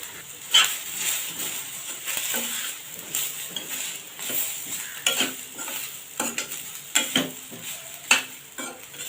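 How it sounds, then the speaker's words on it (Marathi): Onion and dried coconut dry-roasting together in a pan for a spicy pavta and potato curry masala, heard as a soft steady sizzle broken by frequent scraping stirs and light knocks of a spoon against the pan. "इथे एक वाटी सुकं खोबरं आहे ते पण मी या कांद्याबरोबर भाजून घेणार आहे"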